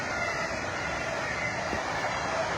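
Rush-hour trains rumble past at a distance, a continuous broad roar with steady loudness and no talking.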